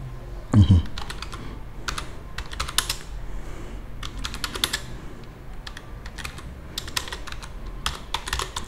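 Rapid, uneven keystrokes on a computer keyboard, clattering in short bursts with pauses between, close and fairly quiet, alone without talk after a brief low thump at the start.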